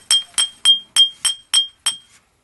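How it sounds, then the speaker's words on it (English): A hammer strikes cured cement on a steel concrete pump coupling, giving seven sharp metallic clinks in an even rhythm roughly a third of a second apart, close and loud, with bright ringing tails and no talk. "So take a hammer and go ahead and chip that"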